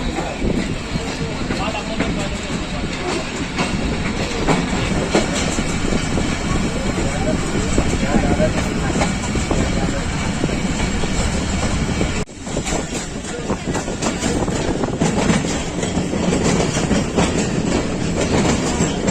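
A Pakistan Railways Shah Hussain Express passenger train rolls slowly through a junction, with a steady clickety-clack of wheels and a loud, continuous carriage rumble heard from on board, plus a brief dip near the end.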